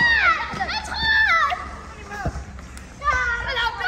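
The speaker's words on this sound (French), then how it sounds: "Les enfants qui jouent au ballon." Children playing ball outdoors in Algeria, with lively high-pitched kids' shouts and chatter, occasional thumps of the ball and footsteps, and a steady background murmur.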